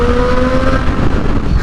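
A 2010 Triumph Daytona 675 motorcycle engine drones loudly and steadily from close range, a rich rumbling tone with a faintly rising pitch, heard alone.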